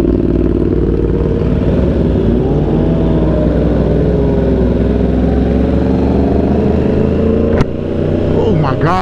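Yamaha R1 sport motorcycle engine droning and revving steadily through a night ride in Miami, a loud continuous tone with smooth quick-shift changes, a sharp click near the end, and wind noise underneath.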